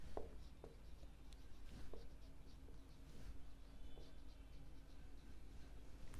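Writing on a board during a commerce accounts lesson comes through as faint, intermittent scratching strokes over quiet room hiss.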